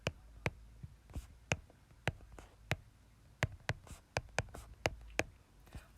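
A pen or marker writing out a logarithmic math equation: quiet, irregular taps and short scratchy strokes in clusters, close but faint, with no talking.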